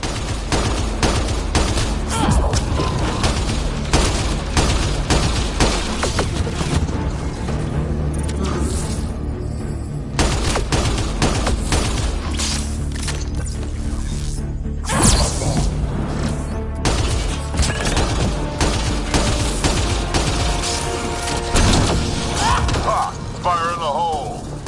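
Dense video game battle against the Ket, with continuous gunfire, whooshes, crashes and explosions layered into a loud, unbroken wall of combat noise, while characters shout and talk throughout.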